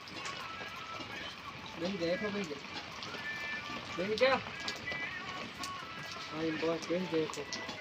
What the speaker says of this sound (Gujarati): વરસાદ આમ બહુ વરસે છે